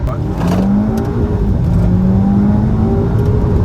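Stage 3 Audi A3 engine revving hard, a loud continuous drone with rising whining turbo tones building steadily throughout, close and dominant.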